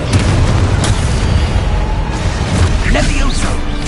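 Confringo fire spell exploding in Hogwarts Legacy: dense, booming blasts that roll continuously under loud battle noise and music, with no break across the few seconds.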